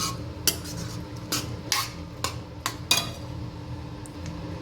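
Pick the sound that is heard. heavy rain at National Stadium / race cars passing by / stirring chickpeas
stirring chickpeas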